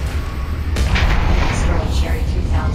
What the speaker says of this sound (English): Railgun